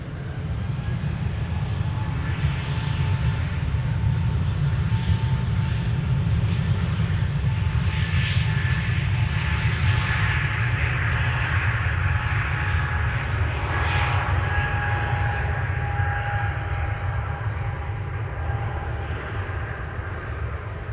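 An SAS Airbus A320neo departing Amsterdam Schiphol gives a sustained low engine rumble with a faint whine, holding steady throughout.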